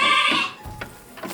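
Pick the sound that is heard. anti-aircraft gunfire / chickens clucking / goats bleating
goats bleating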